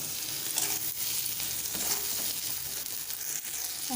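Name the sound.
stirring chapila fish curry in a pan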